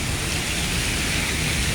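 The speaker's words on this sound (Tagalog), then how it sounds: "dahil sa lakas ng buhos ng ulan" Heavy typhoon rain pours steadily in a dense, unbroken hiss, loud and close.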